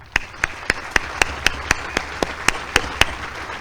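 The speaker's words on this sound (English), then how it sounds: "I'd like us all to give a round of applause to the tremendous members of Cadet Command" At an ROTC Advanced Camp graduation ceremony, about a dozen evenly spaced, sharp claps ring out in a slow steady rhythm, distinct and moderately loud against a quiet background, more like a single pair of hands than a full crowd.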